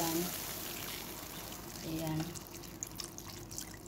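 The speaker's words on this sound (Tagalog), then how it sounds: "So, lalagyan ko po siya ng tubig hanggang dyan." Water poured into a cooking pot for vegetable soup, a steady close splashing pour that fades into faint drips, with someone speaking briefly over it.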